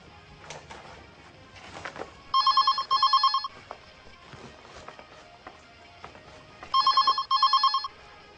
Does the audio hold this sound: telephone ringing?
yes